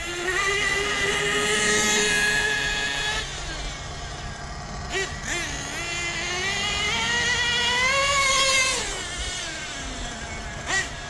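A Hobao Hyper VS2 nitro RC car engine runs at half throttle during break-in, a high buzzing whine that holds steady, dips and swells again, fairly close and loud with brief pauses.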